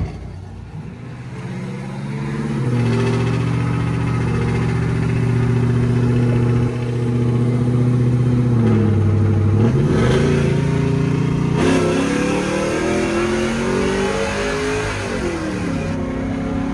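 A 5.3 V8 in a Tahoe with an aftermarket Chopacobra cam idles with a choppy, lopey rhythm, settling in after starting, then revving up a few times before dropping back to idle.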